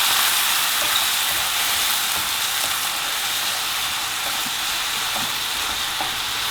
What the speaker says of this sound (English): after frying the masalas, we're going to add a little bit of water, say around 3 to 4 tablespoons of water.